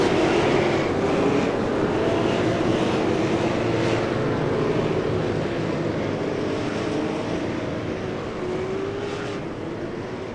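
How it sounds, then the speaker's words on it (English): Super late model stock cars roll around Richmond International Raceway behind the pace car, a steady, dense engine drone that stays even for the whole stretch with no talking. "And the pace car begins to take them around."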